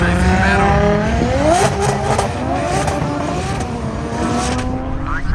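Cars in a drift battle at the Chrome NZ 2025 car show: loud revving engines bouncing off the limiter with squealing tires, close and continuous, slightly distorted.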